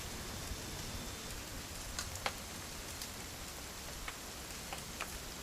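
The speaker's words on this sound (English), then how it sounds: "It's gonna rain the whole weekend, isn't it?" Steady rain in the video game What Remains of Edith Finch, a soft continuous patter with occasional sharper drips, fairly faint and with no voices.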